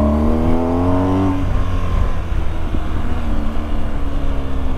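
Two Porsche cars driving on a Swiss mountain pass, steady engine drone with a shifting gear tone and rising revs, close and continuous with road and wind noise.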